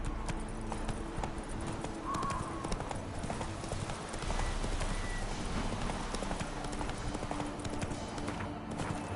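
In The Witcher 3 on PlayStation 5, the horse Roach trots with a steady, close clip-clop of hooves over a dense, continuous game soundscape. A brief whinny may be heard.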